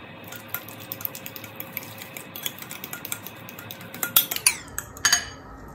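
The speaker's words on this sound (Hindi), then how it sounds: "अब सारी चीजें जो हैं वो हम डालेंगे इस बाउल के अंदर और मिक्स करेंगे।" Yogurt marinade ingredients are stirred in a bowl, with repeated spoon clinks and scrapes against the bowl that grow sharper and louder toward the end, close up and without talking.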